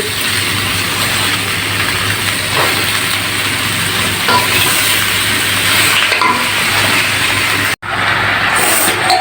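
Cut spinach greens dropped into a hot pan for a spinach and vegetable dish, giving a steady loud sizzle and fry that runs continuously, briefly cutting out for a moment near the end before resuming.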